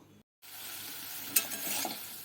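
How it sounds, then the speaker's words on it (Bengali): Cauliflower, potato and carrot pieces frying lightly in white oil in a kadai, a steady close sizzle after a brief silent gap, with a couple of sharp clinks from stirring. "এবার আমি কপি, আলু, গাজরগুলো হালকা করে ভেজে নেব"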